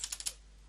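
A few quick, light keystrokes on a computer keyboard, about four clicks in rapid succession, faint and close, then silence.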